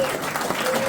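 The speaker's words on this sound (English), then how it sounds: "Give him a round of applause." A crowd at a political petition drive applauds a congressman's introduction, a brief, dense burst of clapping with a faint steady tone underneath.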